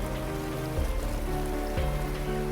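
Heavy rain pouring down as a story sound effect, a loud continuous wash of falling water with a dense steady patter, alone and without speech.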